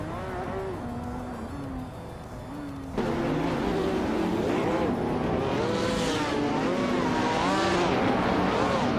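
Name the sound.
racing car engines incl. 2020 Noble M500, racing video game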